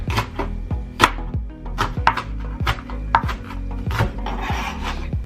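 Onion being chopped with a knife on a cutting board while an island-style salad is made, steady rhythmic chopping thuds, about two strokes per second, close and clear, no talking.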